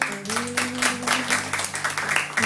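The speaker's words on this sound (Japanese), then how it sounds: "もう一度大きな拍手を。" Audience applause for performer Suzu Asuka, a steady, dense wash of clapping throughout, with a sustained low tone running underneath.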